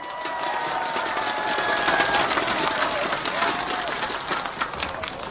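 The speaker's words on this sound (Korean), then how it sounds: "큰 박수 보내주십시오" An outdoor election rally crowd in Daegu for a Democratic Party presidential candidate claps and cheers, a continuous dense patter of applause with crowd voices mixed throughout.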